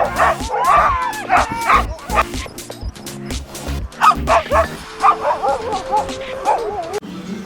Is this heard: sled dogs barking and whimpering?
yes